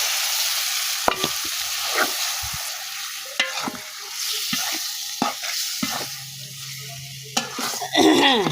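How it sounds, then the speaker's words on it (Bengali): Fish dropped into sizzling spiced masala in a pan for a coconut fish chochchori, loud crackling frying with sharp clatters and scrapes throughout, close, ending in a burst of splattering. "এখন আমি মাছটা দিয়ে দেবো।"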